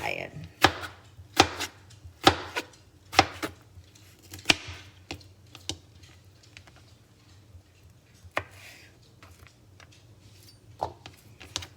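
Knife chopping sweet potatoes for french fries on a cutting board, a series of sharp close knocks, quick at first, then sparser with gaps and a few later cuts.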